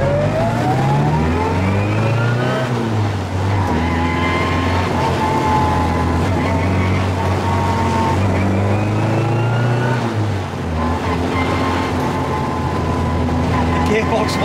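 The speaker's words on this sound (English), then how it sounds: "The gearbox whine is everything." Mini Cooper 1275 S driving at speed, its engine droning steadily with a rising and falling gearbox whine through gear changes, loud and continuous from start to finish.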